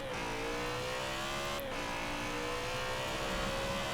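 A BMW M3 engine revs steadily in the racing game Forza Horizon 4, a sustained droning tone that dips briefly at a gear change and climbs again, with traffic and background noise and no speech.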